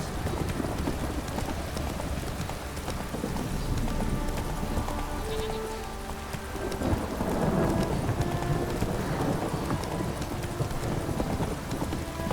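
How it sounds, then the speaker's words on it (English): Heavy rain pours down with rumbling thunder in The Witcher 3, a steady, loud downpour filling the whole stretch, with horse hoofbeats clopping underneath. "This downpour's a bastard"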